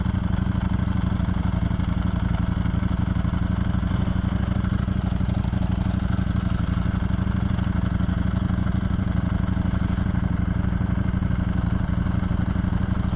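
A 2022 Ducati Streetfighter V4 engine runs steadily nearby, a dense, even rumble with a faint clattering texture that holds at a constant level for the whole stretch, with no talking.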